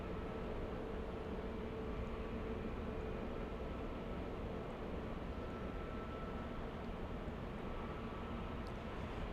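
Southwest Airlines jet taking off from a runway at LAX, a steady broadband roar that holds constant and fairly distant throughout, with no voices over it.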